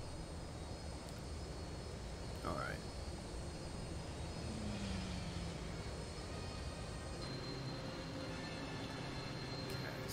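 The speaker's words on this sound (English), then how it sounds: "So, we're on a big train in the sky." A sky train moving in Star Wars Jedi Academy, a steady low engine drone with a faint whirring hum throughout, joined by brief swooping tones, while someone speaks briefly over it.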